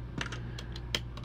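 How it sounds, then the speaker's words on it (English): Several quick, faint keystrokes tapped on a computer keyboard while typing a command in a quiet room, the clicks arriving in a short uneven burst. "So now what we're going to do is we're going to type in"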